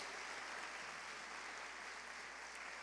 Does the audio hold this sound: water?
no